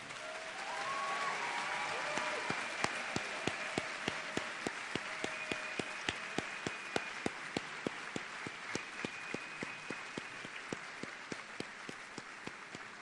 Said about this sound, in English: Please give a round of applause for all their hard work.